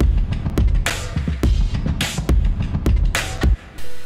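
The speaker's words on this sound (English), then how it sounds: "all these together with a bunch of compression on the drum bus sounds like this" Layered kick drums and a marching-style snare from drumline samples, heavily squashed by drum bus compression, hit in a loud, punchy pattern with sharp bright cracks about every half second and no talking.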